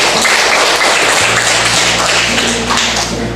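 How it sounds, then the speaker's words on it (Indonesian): Classmates applaud in a classroom, a dense, steady burst of many hands clapping close by for several seconds with no voices over it. "tepuk tangan dulu teman-teman"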